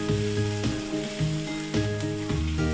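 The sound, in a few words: prawns sautéing with turmeric and salt in pan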